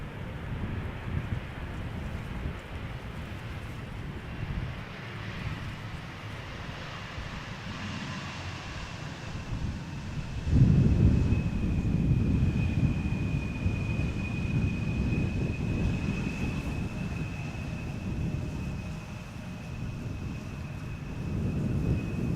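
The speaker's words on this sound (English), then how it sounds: "KLM flight 1626 arriving from Milan, Embraer 175." KLM Embraer 175 landing on Schiphol's Polderbaan: a distant jet rumble with wind noise builds into a louder, closer roar midway, then holds steady with a faint engine whine above it.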